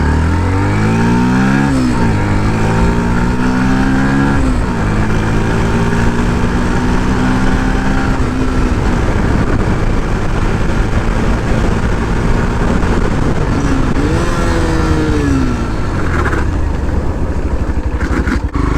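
A Yamaha FZS v3 or TVS RR310 motorcycle rides along, its engine revving up and dropping through several gear changes in a loud, close, continuous roar, with steady road and wind noise beneath.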